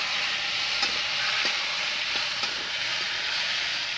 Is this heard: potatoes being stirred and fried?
yes